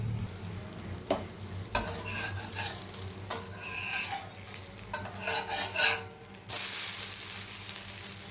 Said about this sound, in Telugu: ఇదండి దోశ వేస్తున్నా